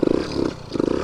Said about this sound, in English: It definitely revs up better now.